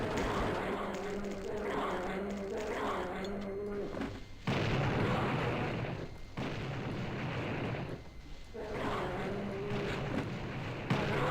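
Heavy booms and rumbling blasts from rocket launcher explosions in the video game Blood: Refreshed Supply, several loud bursts in quick succession with dense, sustained roaring between them.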